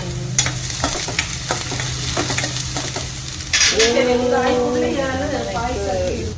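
Onion fries in a pan with a continuous bright sizzle and occasional utensil scrapes, while a person talks over the cooking in the second half.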